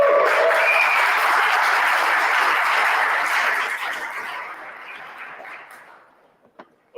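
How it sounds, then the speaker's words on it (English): Conference audience in an education room at a JavaScript event claps loudly and steadily, then the applause thins out and fades over the last seconds, leaving a few scattered claps and small noises. "Another big clap for Tracy."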